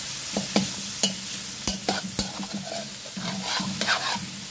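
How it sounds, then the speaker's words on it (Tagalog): Sautéing in a pan with steady sizzling under repeated sharp stirring knocks and scrapes of a utensil against the pan, close and fairly quiet. "Then habang ginigisa natin, lagyan natin ng paminta."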